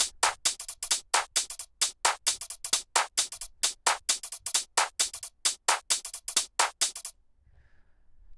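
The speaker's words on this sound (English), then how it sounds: "I'll get to that after I go over this percussion loop here" A sample-pack percussion loop for future garage and breakbeat, with crisp, evenly spaced hits in a fast, steady rhythm for about seven seconds before it stops abruptly into near silence with a faint tail.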